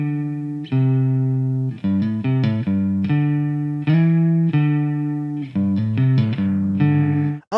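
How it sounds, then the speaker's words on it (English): A synth melody runs through the Supermassive delay and reverb plugin, loud sustained tones with echoing repeats and a washy reverb tail trailing each note. "Supermassive, and this is more of a delay and reverb all in one."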